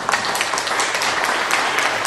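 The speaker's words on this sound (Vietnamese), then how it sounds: "xin tất cả quý vị chúng ta sẽ không quên dành cho cô dâu và chú rể chúng ta với những tràng pháo tay" Wedding guests break into loud, dense applause for the bride and groom, a steady crowd of many hands clapping together throughout without pause.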